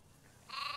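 A sheep in the horse-riding video game Star Stable gives one short, clear bleat after a quiet moment.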